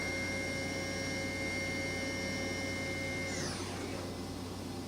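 A 2013 Kitamura Mycenter HX250G horizontal machining center's 15,000 RPM-rated spindle runs at 9,000 RPM, giving a steady high whine with tonal lines over a constant mechanical hum. The pitch slides near the end as the speed shifts, with no speech.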